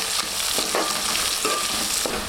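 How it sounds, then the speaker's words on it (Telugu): Onion pieces frying in hot oil in a pan for a Telugu cherry tomato kurma, giving a steady close sizzle broken by a few short stirring scrapes, with no talking. "ఇప్పుడు ఉల్లిపాయ ముక్కలు వేస్తున్నాం."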